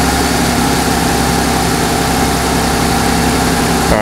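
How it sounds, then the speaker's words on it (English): A car engine, started using a Fanttik T8 APEX portable jump starter, idles loudly and close with a steady low rumble and constant vibration throughout. "So let's turn on the engine first."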